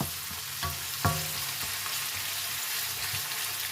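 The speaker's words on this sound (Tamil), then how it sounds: "இதுவும் ஒரு கொஞ்சம் வதங்கி வர வேணும்." Vegetables sautéing in a pan for tuna noodles, a steady low sizzle broken by a few distinct clanks of a spatula stirring against the pan, close and without speech.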